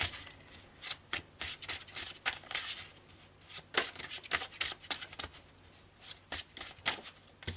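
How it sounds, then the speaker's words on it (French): Marseille tarot cards being shuffled by hand: a steady run of quick, papery riffling bursts and soft flicks, close and fairly quiet, with no voices. "je vais tout de même demander quelques cartes du Marseille"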